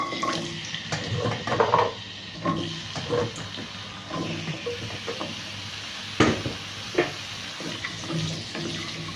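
Drumstick (moringa) pieces frying in a pan for a curry, giving a steady low sizzle with occasional stirring scrapes and clinks, close and moderately loud, with no voices.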